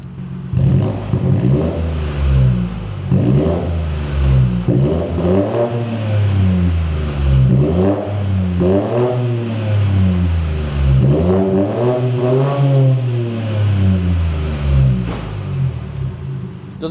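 A BMW 118i with its muffler deleted revs repeatedly while warm, a string of rising and falling engine swells roughly every second or two, loud and close with a rough, droning exhaust note.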